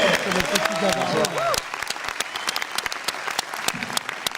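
An audience at the opening ceremony of a short-film festival in Brittany breaks into loud applause that follows a man's spoken introduction, then settles into dense, steady clapping.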